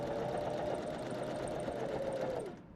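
Janome 500 or 721 sewing machine running a sample line of stitches at length 3.5, a steady close whirring hum that holds evenly for over two seconds before stopping abruptly.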